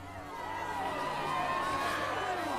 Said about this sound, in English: a disgruntled crowd takes to the streets